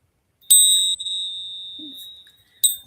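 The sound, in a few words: bell rung for sound cleansing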